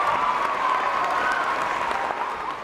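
A crowd of schoolchildren claps and cheers together in a dense, continuous burst of applause that stays steady and fades slightly at the end.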